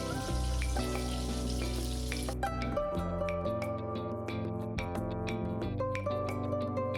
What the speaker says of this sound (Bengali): আলুগুলো ভালো করে লাল লাল করে ভেজে নিচ্ছি